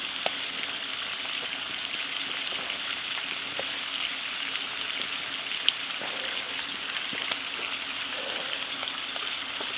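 Catfish pan frying in a big skillet over a campfire after dark gives a steady, even sizzle with occasional soft pops and crackles, close and continuous without speech.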